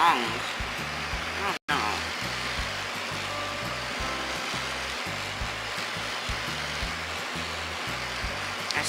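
Two-speed electronic nail file buzzing steadily as it files a fingernail, a continuous motor whine with a brief cut-out near the start, while a person talks over it.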